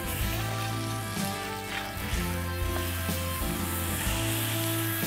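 Beef burgers sizzling and spitting on a grill right after being flipped, a loud, steady frying crackle close up with a few soft clatters, no voices.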